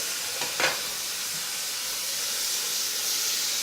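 Whole garlic cloves, olives and chestnuts sizzle in olive oil in a hot pan, a loud, continuous hissing fry with a brief crackling burst near the start.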